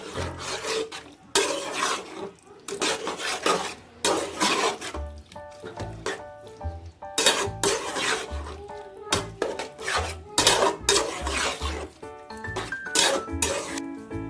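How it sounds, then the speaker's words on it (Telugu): A spoon scrapes and stirs cooked toor dal in a metal pot for a village-style Telangana pappu charu, with repeated rasping, clinking strokes in uneven bursts, close and steady, with pauses between. "ముందుగా ఉడికించుకున్న కందిపప్పు, మంచిగా కలుపుకోవాలి."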